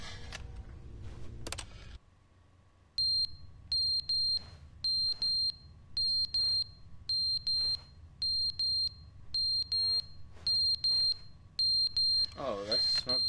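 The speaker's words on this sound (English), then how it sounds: "Oh, that's a smoke detector." Smoke detector in the video game The Stanley Parable, chirping in a steady repeating pattern of short high double beeps about once every half second, loud and close, with brief talk beforehand.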